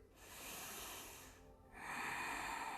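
Slow, deep breathing during a yoga exercise, a long airy inhale hiss, a brief pause, then another strong breath through the nose, close and quiet.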